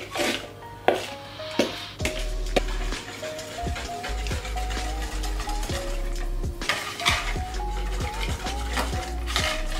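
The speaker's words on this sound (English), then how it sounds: "So all we're going to do is pour this into the pumpkin mix." Melted butter and milk poured into a pumpkin pie mix, giving liquid pouring with clinks of a bowl and utensils, near and moderately loud, with no talking.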